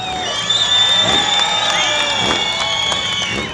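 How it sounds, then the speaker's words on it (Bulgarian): An audience at a live stage show in Varna, Bulgaria, whoops and cheers loudly nearby with some clapping mixed in, a dense, sustained crowd roar with high shouts layered on top. "Още веднъж аплодисменти за любезните домакини от Нова Варна!"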